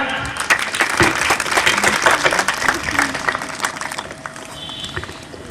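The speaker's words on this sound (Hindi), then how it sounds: "एक बार जोरदार तालियां" A crowd at a Saraswati Gyan Mandir Republic Day school event on 26 January bursts into loud, vigorous applause, dense clapping that stays strong before easing near the end, with voices mixed in.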